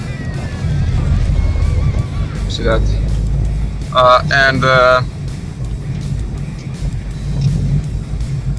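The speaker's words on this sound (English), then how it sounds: "It's car traffic here." Car traffic moves through the streets of Novi Pazar with a continuous low road rumble, while someone speaks briefly over it and a few sharp horn-like tones cut through near the middle.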